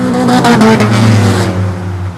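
Race cars roaring around a short track oval, loud engines revving and droning close by as the pack rushes past, the sound thinning slightly toward the end.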